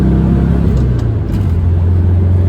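Loud, near low rumble of a 1967 Volkswagen Beetle engine accelerating on the road, with a brief dip around a gear change before the drone settles back in steadily.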